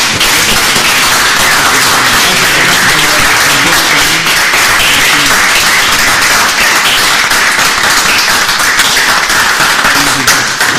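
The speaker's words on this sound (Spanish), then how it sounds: "les pido que con un aplauso sellemos esta entrega" Loud, sustained audience applause sealing a recognition and appointment at an association meeting, dense rapid clapping close up that stays at full strength without a break for the whole stretch.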